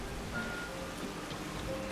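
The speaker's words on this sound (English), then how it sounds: "Rain. There we go. Just turn it down just a little bit." Rain ambience in the video game Skyrim, a soft, continuous patter of rain at low level with faint tonal background sounds and no speech.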